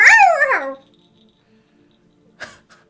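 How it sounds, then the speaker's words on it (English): A dog lets out one loud, close, drawn-out bark that bends downward in pitch, then silence before a brief faint sound follows. "This dog is really annoying right now."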